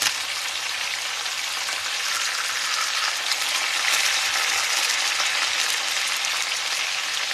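Pork chops frying in hot grease, a dense, steady crackling sizzle that holds evenly close up with no voices.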